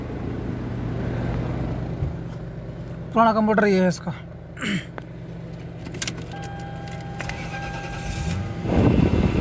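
A 2001–2003 Lexus LS430 with an air-conditioning failure and a replaced control computer is started: keys jingle, the engine cranks and catches, then settles to a low idle after someone speaks briefly nearby.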